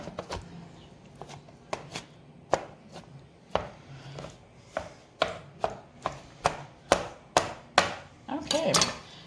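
Knife chopping tomatoes on a cutting board, a run of sharp, fairly loud chops that start sparse and build to a steady, quick rhythm near the end.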